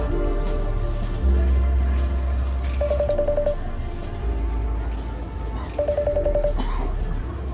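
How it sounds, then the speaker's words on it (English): A FaceTime audio call rings out on an Apple Watch Ultra 2 with two short, evenly spaced bursts of a pulsed electronic tone over a constant background hum. "Starting a FaceTime audio call to Norman G. Other."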